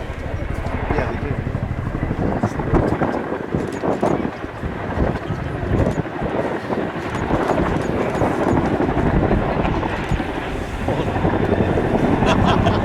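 Chinook twin-rotor military helicopter performing a nose-down quick stop at an air show, a steady loud rotor drone with rhythmic blade slap throughout, under a commentator's voice.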